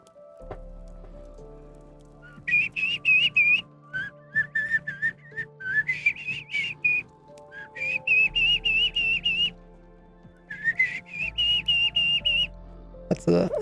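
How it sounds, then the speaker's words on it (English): In a Minecraft Skyblock world, a baby turkey gives long, high, whistle-like trilling calls in repeated bursts with short gaps, clear and close over soft game ambience. "That's a baby turkey noise."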